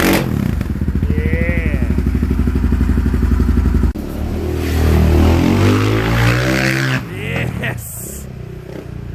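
A 2001 Yamaha Raptor 660 ATV engine with an aftermarket exhaust runs loud and close, a rapid thumping idle that shifts into uneven revving with a little backfire, while a person briefly speaks.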